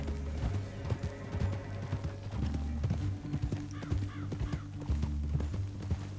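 Steady clip-clop of horse hooves at a trotting rhythm in the video game Red Dead Redemption 2, fairly close, with occasional snorting and a faint whinny over a low rumbling background.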